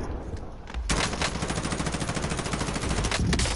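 Rapid automatic gunfire with recoil in the Warzone video game rattles in a steady, loud stream after a brief quieter opening.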